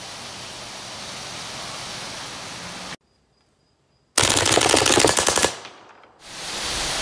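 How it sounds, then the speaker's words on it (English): A Milsig M5 paintball gun fires in a rapid, loud, dense burst of shots lasting just over a second. Steady broadband hiss comes before it and returns after a brief silence, with no voices. "This is the Milsig M5 paintball gun."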